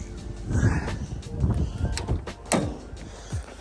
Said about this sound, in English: Door opens up smooth.